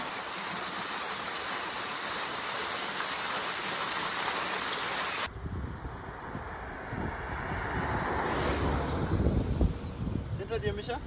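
A sulfur waterfall on São Miguel in the Azores gives a steady, rain-like rush of falling water. The hiss stays close and constant while a person talks over it.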